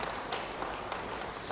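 A church congregation applauding together, a steady dense patter of clapping held at an even level with a few sharper claps standing out.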